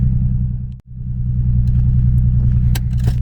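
A car fitted with a boost controller rumbles steadily up close with a deep engine drone, broken once by a brief dropout, with a few faint clicks near the end.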